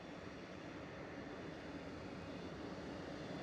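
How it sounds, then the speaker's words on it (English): A Daher TBM 960 turboprop at Edinburgh Airport gives a steady, broad engine roar that holds at an even level throughout, with no voices over it. "A Daha TBM 960."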